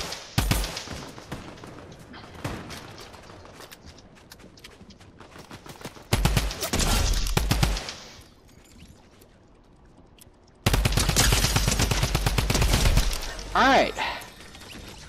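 Bursts of gunfire from the video game Fortnite come in three loud rapid volleys separated by quieter stretches of game sounds, with a voice occasionally talking.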